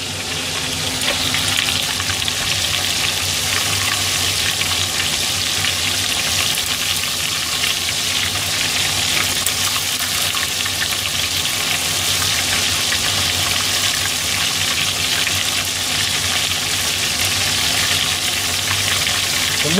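Hatahata sandfish karaage deep-frying in hot oil, a steady, close, dense crackling sizzle that runs unbroken and evenly loud throughout, with no talking.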